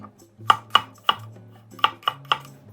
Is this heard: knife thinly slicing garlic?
yes